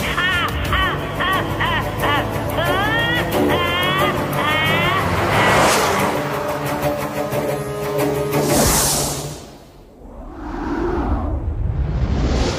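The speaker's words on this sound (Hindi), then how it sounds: "सभी कारें एक दूसरे को ओवरटेक करती हुई मॉडर्न सिटी के अंदर एंटर करती हैं और स्पीड से सारी कारें मॉडर्न सिटी को क्रॉस कर रही हैं" Cartoon race cars speed and overtake one another while entering a modern city, giving steady whooshing engine rushes and passing swishes over a busy mix of music and effects, with speech at moments.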